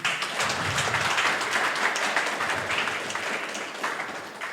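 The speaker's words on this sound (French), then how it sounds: "Veuillez applaudir Zayn" A French oratory debate audience claps steadily for about four seconds, a dense, continuous ripple of many hands in a hall with no talk over it.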